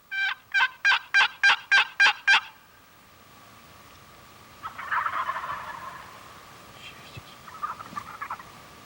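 A wild turkey gobbler lets out a rapid, loud series of about eight gobbling pulses, followed by quieter, more distant gobbling and calls after a pause, during a Michigan turkey hunt.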